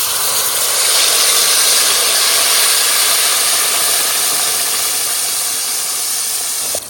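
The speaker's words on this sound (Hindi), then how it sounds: "हमारा घी बहुत ही जबरदस्त गर्म हो चुका है। अभी पेस्ट डाल लेंगे।" Hemp paste dropped into very hot ghee for halwa, giving a loud, steady sizzling hiss that holds evenly for several seconds with no talk.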